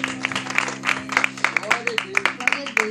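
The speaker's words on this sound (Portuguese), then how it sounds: "aplaudindo bem forte o nome de Jesus" A church congregation clapping in a steady, brisk rhythm during worship, the claps sharp and close, over sustained music and voices.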